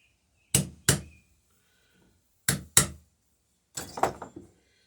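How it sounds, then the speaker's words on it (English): Sharp metallic hammer strikes on a center punch marking a drill spot while building a dory, in pairs: two quick blows, a pause, two more, then a final cluster of quicker taps, close and loud with no talk. "I think I'll give myself a little helping hand here with the center punch."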